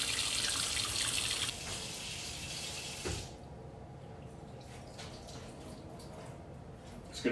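Water runs and drips off a freshly boiled deer skull being shaken out, a steady splashing that thins abruptly after about three seconds into quieter scattered drips.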